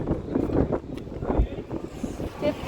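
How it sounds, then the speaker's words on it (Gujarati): Strong wind at Dwarka buffets the microphone in a steady low rumble with gusty swells, while voices murmur faintly underneath. "કેટલો બધો પવન આવે"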